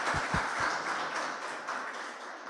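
Audience applause at a PULMOCON 2022 medical conference session, a steady wash of clapping from many hands, sustained and fairly even throughout, with a few low thumps at the start.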